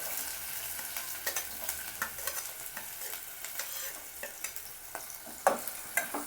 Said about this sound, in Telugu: కొంచెం ఈ ఉల్లిపాయ ముక్కలు వేగేదాకా కొంచెం వేయించండి